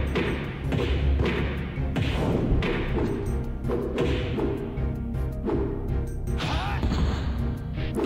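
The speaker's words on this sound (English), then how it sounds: "here is the sound of the video game itself" Fight-scene hit effects from the Shenmue video game: a rapid series of loud thumps, whacks and crashing impacts in uneven bursts, with brief game voice grunts mixed among the blows.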